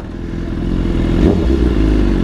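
A BMW S1000RR sport bike revs up close on a Manhattan street, its loud engine note climbing to a peak and staying raised, with mechanical clatter under it.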